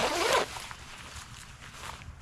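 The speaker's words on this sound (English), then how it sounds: "Oops, got the wrong zipper in." A single quick zip pulled on an extreme-cold-weather jacket from Valley Apparel, close and crisp, lasting under half a second before fading into quiet room tone.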